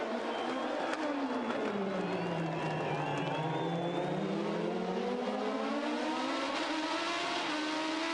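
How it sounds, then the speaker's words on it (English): IndyCar race cars on the final lap of a street race at Surfers Paradise, Australia; a steady, distant engine roar sweeps downward then rises again as cars pass, with a faint high whine over continuous track noise. "But now Ryan Briscoe is trying to fight off the challenge of Scott Dixon on the final lap of the race"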